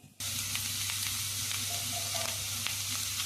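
Potatoes fry in a pan with salt and chili, giving an even, close sizzle with a few light stirring clicks after a sudden start, with no voices.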